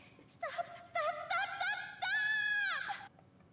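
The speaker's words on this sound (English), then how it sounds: "My scream echoes in the stadium." A scream from the video game Persona 4 Dancing All Night, set in a stadium, rises in several drawn-out, wavering voiced cries that break and resume before tailing off.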